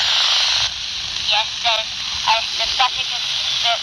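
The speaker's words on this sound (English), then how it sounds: "the static is a bit louder, but I can still hear you okay" Steady static hiss from two-way radios at long range, loud and continuous, with faint fragments of radio voice breaking through in the middle.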